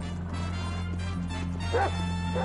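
A dog in GTA V barks with short yips and whimpers over a steady low game drone, brief and close, with faint speech-like sounds mixed in.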